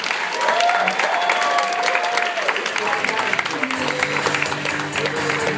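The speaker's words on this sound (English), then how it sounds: "Please put your hands together." Wedding guests at a Laguna Beach reception clapping and cheering during the grand entrance, a sustained wash of applause with a melodic tone and music-like pitches running underneath and voices mixed in.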